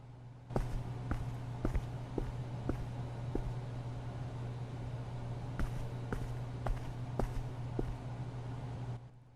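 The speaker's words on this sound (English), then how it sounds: "We now have footstep sounds that have been added to our character as we're walking around the store." Footsteps of a character walking around a store in Grocery Store Simulator, a video game, sound as faint, evenly spaced taps over a constant low hum, with a short pause midway before the steps resume; nobody speaks.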